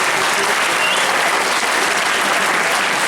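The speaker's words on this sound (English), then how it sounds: "put your hands together for the family" A crowd claps steadily and loudly, dense applause filling the whole stretch without letting up.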